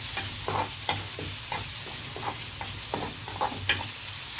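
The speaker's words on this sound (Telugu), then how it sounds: "ఇప్పుడు ఆనియన్ కొంచెం ఫ్రై అయ్యాయి కదా, చికెన్ వేసేద్దాం" Chicken frying in oil with onions and ginger garlic paste, a steady soft sizzle with regular scraping stirs of a spoon in the pan, close and alone.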